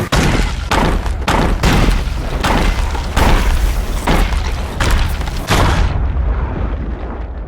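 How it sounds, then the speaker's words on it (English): Powder keg blasts in the pirate video game Sea of Thieves: a dense, loud barrage of booming explosions and cracking bursts in rapid succession for several seconds, then a rumbling fade, with no talk. "when a powder keg goes off in your vicinity, the game physics combined with the multi-layered audio really make you feel that explosion"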